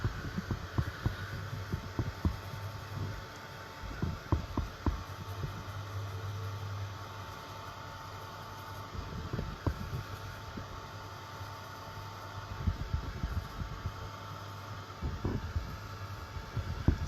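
A dryer blowing on wet paint in a craft project gives a steady, whooshing hum with a low droning undertone. It is close and continuous, with faint bumps and knocks now and then.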